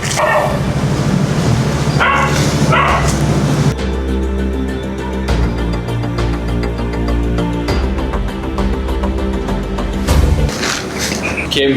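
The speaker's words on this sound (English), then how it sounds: "what is there to bark at?" A dog barks repeatedly in a bright outdoor setting in Bali, giving sharp, loud yaps in short bursts at the start and again near the end, over steady background noise.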